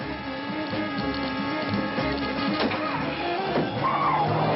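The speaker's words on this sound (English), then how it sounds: "that clicking sound you heard sounds like a Geiger counter." Rapid mechanical clicking from a detonator, resembling a Geiger counter, runs continuously at moderate level over a dense soundtrack of background noise and music for about four and a half seconds.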